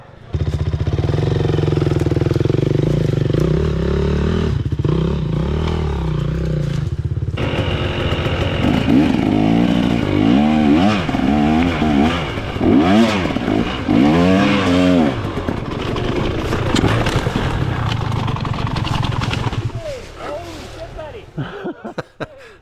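A trail motorcycle climbs a rooty hill, its engine droning and then revving up and down in repeated surges as the rear wheel loses and regains traction, loud and close, with someone talking over it.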